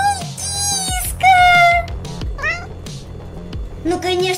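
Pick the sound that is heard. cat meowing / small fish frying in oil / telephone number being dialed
cat meowing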